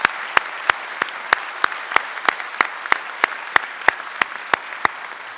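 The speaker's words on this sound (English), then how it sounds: "All right, one more time clapping." A single person claps alone in a steady, evenly spaced rhythm, about three claps a second, sharp and close, over a faint background of room noise.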